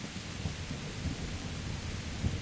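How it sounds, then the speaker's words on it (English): Thunderstorm in the medieval game Kingdom Come: Deliverance: steady rain hiss over a continuous low, rolling thunder rumble, with a couple of slightly louder swells and no speech. "This storm is a sign from God."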